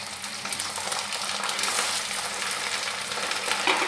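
Coarsely pounded garlic paste frying in hot oil for a ginger and garlic pickle, a loud steady close sizzle that swells slightly partway through, with no talk.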